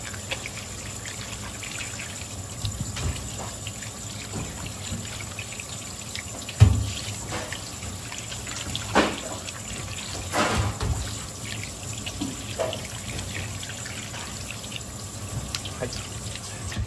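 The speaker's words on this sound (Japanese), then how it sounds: "水を流し持ってやった方がいいよ。" Tap water runs steadily at a kitchen sink while horse mackerel is filleted, a continuous low wash with a few brief knocks and splashes over the noisy background.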